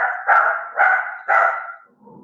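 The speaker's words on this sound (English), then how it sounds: "My dog is disturbing me." A pet dog barks indoors: three loud, close barks come in an even rhythm, followed by a softer whimper at the end.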